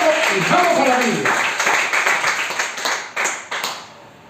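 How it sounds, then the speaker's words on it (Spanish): Church congregation breaking into applause, a dense wash of clapping from many hands that fades and thins into scattered claps, with a voice speaking at the start. "¿Le damos un aplauso al Señor, hermanos?"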